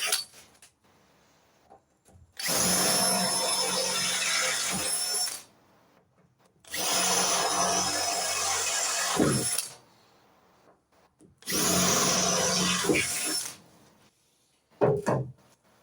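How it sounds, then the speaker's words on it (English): A drill with a larger bit bores holes in the tailgate of a 1970 MGB GT, three steady whirring bursts of a few seconds each with short quiet gaps between, close by, followed by a brief clatter at the end. "so I drilled me pilot holes already. Now I'm going to go for the proper size bit."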